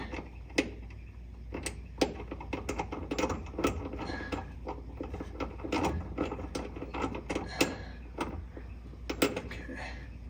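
Nylon locking nut being threaded and tightened onto a rear shock absorber stud of a 1968 Ford Mustang, giving a steady run of close metallic clicks and ratcheting taps with light handling noise.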